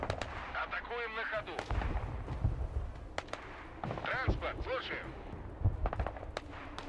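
Incoming artillery in the Broken Arrow war game, with heavy booms and sharp blasts landing every second or so among scattered gunfire, while a voice talks at intervals over the barrage.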